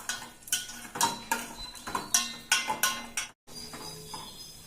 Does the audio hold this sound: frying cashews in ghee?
yes